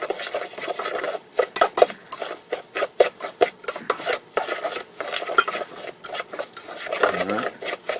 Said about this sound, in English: Stir me all around.